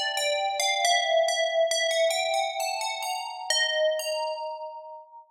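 Bright bell preset from the Citrus stock synth plugin playing a melodic run of struck, ringing tones with sharp attacks and long harmonic decays, the notes overlapping and fading out cleanly at the end.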